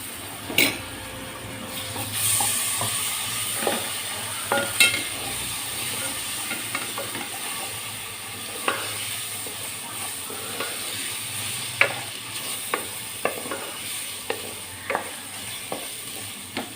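Ginger garlic paste sizzles and fries in a pan for a chicken gravy curry, with a steady hiss and scattered scraping clicks of a spoon stirring, fairly close and moderate in level, with no voices.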